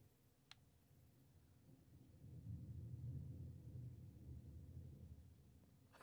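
Deep rolling thunder from the video game Detroit: Become Human, a low rumble that swells midway and lingers loud before easing slightly, heard alone without talk.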